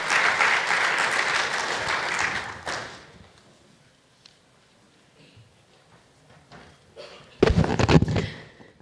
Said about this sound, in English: Can I have a big round of applause for Ashna and Balram?